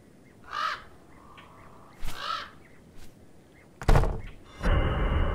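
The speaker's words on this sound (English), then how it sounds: "What's with this nasty crow?" A crow caws in the fantasy game Chronicles of Magic: Divided Kingdoms, giving two harsh, spaced calls, followed by sharp thumps and a heavier knock-like clatter near the end.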